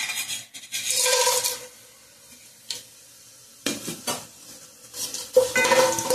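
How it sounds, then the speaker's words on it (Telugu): Whole spices fry in hot oil in a pan, heard as short bursts of sizzling and metal spatula clatter against the pan, separated by quiet gaps. "ఇవైతే వేగుతా ఉన్నాయి కదా."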